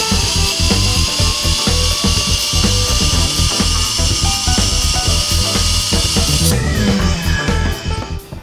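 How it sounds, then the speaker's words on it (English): Compressed air at about 150 psi drives a patented turbine based on a Tesla design, giving a loud, steady mechanical whir with rapid ratcheting clicks that cuts off near the end. "you'll notice that it'll spin the turbine and make electricity"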